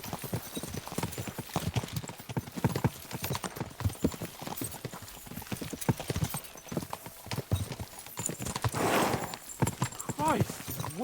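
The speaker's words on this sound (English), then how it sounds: "We should spur the horses on." Horses' hooves clip-clopping at a steady pace in the medieval game Kingdom Come Deliverance 2, loud and continuous throughout, with speech layered over the hoofbeats and a brief whinny near the end.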